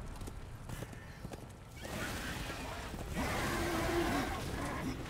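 Hooves clip-clop at a steady walk beside a low rush of wind or water, with no clear neigh standing out, in the video game Darksiders II.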